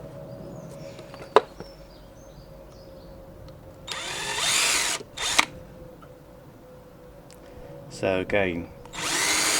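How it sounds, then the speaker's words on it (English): A power drill with a narrow bit boring screw holes in wood for a leatherworker's stitching clamp, in two short whirring bursts, with brief talk and a few clicks and taps in between. "I'm using quite a narrow drill bit here, so that the screws will be lovely and tight in their holes"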